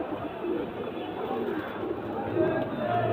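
A pair of heavy Fulshira breeding pigeons cooing at a home loft, low soft coos beneath steady chatter and people talking nearby.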